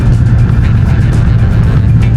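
A motorcycle riding along an open bypass road, a loud continuous engine drone mixed with heavy wind rush buffeting close to the rider, steady for a couple of seconds.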